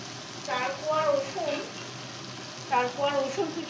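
Chopped garlic frying in a pan gives a soft, steady hiss, kept low beneath a person talking in two bursts.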